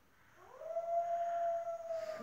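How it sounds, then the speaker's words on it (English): A single wolf howl carries from a distance, rising into a long sustained tone that holds steady for over a second before tapering, with faint wind in the background and no voices. "Wolves, they're out there somewhere."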